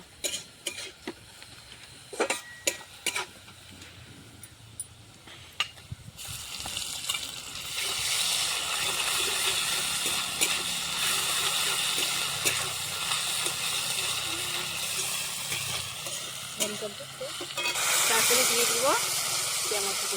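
Onions fry in a pan as ginger garlic paste goes in for chicken kosha. Scattered clicks and taps of utensils come first, then a loud, continuous sizzling hiss rises and fills the rest, with a brief surge near the end.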